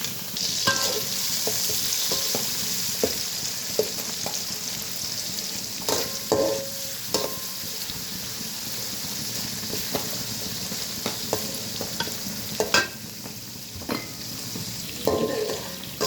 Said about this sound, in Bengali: কড়াইটা বসিয়ে দিলাম, পেঁয়াজ দিয়ে দিলাম